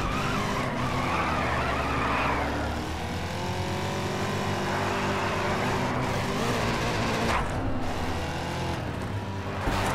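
Racing car driven in the Grid video game, a loud continuous engine roar with tyres squealing and skidding through corners, steady and close throughout with no talking.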